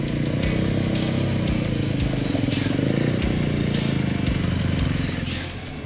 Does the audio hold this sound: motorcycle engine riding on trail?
yes